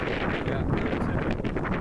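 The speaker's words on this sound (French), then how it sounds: "il y a un sacré vent" Strong gusting wind buffets the microphone during a cycling stage race, a dense low roar rising and falling continuously and close up.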